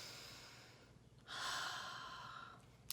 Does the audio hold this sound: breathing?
yes